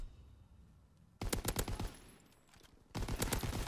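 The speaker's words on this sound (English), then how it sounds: "That was a PPSH, I think." A PPSh submachine gun fires in a video game, heard as two rapid bursts of shots, each lasting under a second, with a short pause between them.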